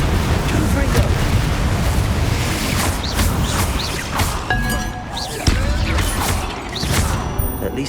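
Fiery Confringo spell blasts from the video game Hogwarts Legacy burst and crash loudly and repeatedly over a dense, rumbling battle din, with game voices partly heard.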